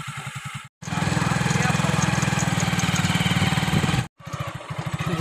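Motorbike engine running on a rough village road, a steady close putter with brief cutouts, a voice talking over it at times.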